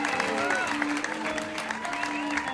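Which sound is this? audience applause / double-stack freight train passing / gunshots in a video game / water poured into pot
audience applause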